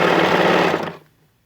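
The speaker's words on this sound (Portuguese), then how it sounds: "Costura zigue-zague." A sewing machine runs a zigzag stitch through cotton, a short steady motor whir with a rapid needle rhythm lasting under a second before stopping.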